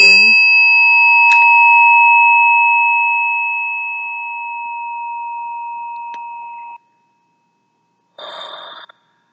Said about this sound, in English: So I also have this bell, which I will ring